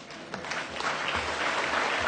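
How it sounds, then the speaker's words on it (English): A conference audience claps for the panelists at a mining conference, applause building quickly from scattered claps to a full, steady round. "Let's give a round of applause to our panelists."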